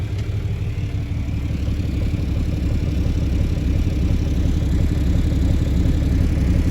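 A red farm tractor running steadily during hay baling, its low engine idling and rumbling close by at an even, continuous level with no talk.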